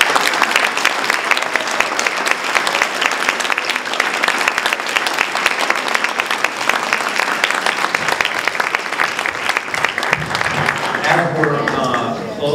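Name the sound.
audience giving a round of applause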